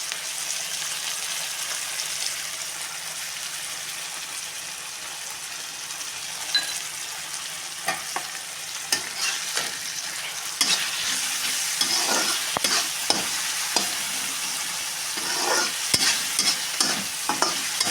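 Tomatoes and onions fry in a pan for a potato and cauliflower curry, giving a steady close sizzle with repeated scraping stirs that come faster in the second half. No one speaks.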